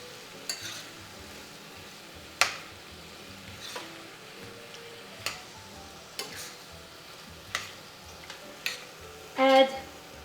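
Diced tomatoes are stirred into a moussaka sauce frying in a pan, giving a soft steady sizzle broken by occasional sharp clicks and scrapes of the spoon against the pan, close and fairly quiet.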